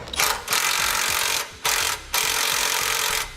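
A nylon lock nut over a lock washer is tightened onto a base plate bolt on a 2017 Chevrolet Equinox using a power tool. Close, loud bursts of mechanical whirring come in three runs broken by short pauses.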